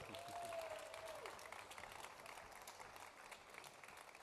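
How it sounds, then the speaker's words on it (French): Audience applause at a Musicasens concert honouring a musician, a dense, even wash of clapping from a crowd in a hall, heard faintly at a distance, with a brief sung or whistled tone and murmured voices at the start. "Bravo, Vitali, on peut l'applaudir très très fort."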